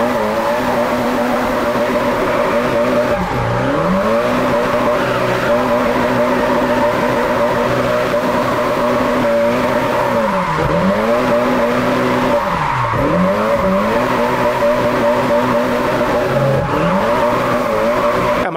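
A drift car in a racing video game roars continuously at high revs, its engine pitch sweeping down and back up in repeated slides, with skidding tire squeal layered over the steady, loud drone and no talking.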